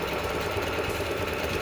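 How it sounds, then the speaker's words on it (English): A sewing machine stitches two blouse pieces of a Bharatanatyam dance costume together, giving a steady close hum with a fast, even needle rhythm and no voices. "I will be stitching it like this."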